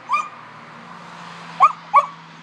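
A dog gives three short, high, whimpering yelps, one alone and then two close together, close by against a quiet low hum, with no voices.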